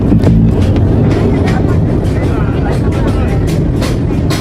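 Train at a station: a loud, continuous rumbling roar with rattling bursts fills the scene, with voices mixed into the noise.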